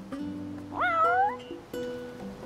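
A cat in the video game Final Fantasy XV gives a single clear, rising then falling meow, close and loud over soft in-game music tones.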